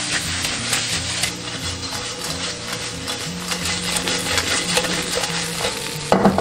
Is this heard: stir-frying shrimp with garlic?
yes